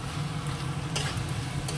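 Potatoes and chicken sauté with spices in hot oil, a continuous close sizzle with light stirring and a couple of brief scraping clicks, no voices.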